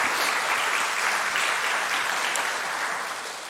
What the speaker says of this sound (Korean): 우리 박수 한번 해주시기를 바랍니다